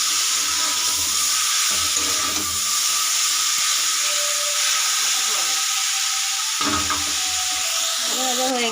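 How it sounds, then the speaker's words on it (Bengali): Sliced chalta, elephant apple, frying in a pan with salt for a homemade pickle, a steady hissing sizzle running throughout with occasional brief clinks. "ভালো করে এটাকে ভেজে নেব।"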